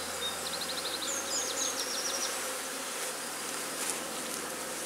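Honey bees hum steadily during a hive inspection of a colony cut out of a chimney, recorded at a UK apiary. The sound is a soft, even drone with a few faint chirps early on.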